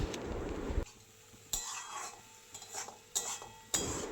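Water spinach stir-fries in a pan with a little oil and panch phoron, giving a soft, faint sizzle broken by scraping stirs and a few sharp utensil clinks against the pan.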